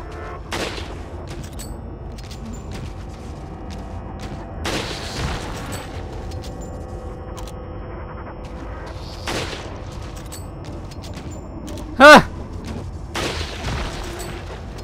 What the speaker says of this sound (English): can I just shoot him in the face with a rifle?